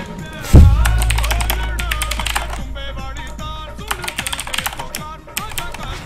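A clicky mechanical keyboard clatters in fast, uneven bursts of sharp keystrokes close to the mic during a PC game stream, with a thud at the start and game sounds beneath.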